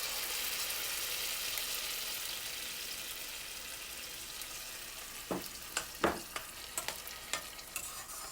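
Sofrito sizzles and cooks in a pot as the base for a crab meat stew, a faint, steady hiss with a few sharp clinks of a spoon stirring toward the end.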